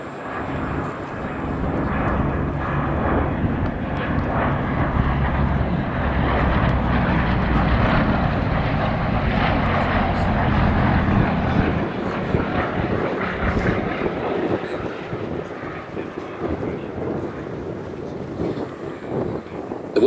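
A Gloster Gladiator Mark I biplane flies past at the Duxford Battle of Britain air show, its piston engine droning steadily, swelling and then fading, with some wind buffeting.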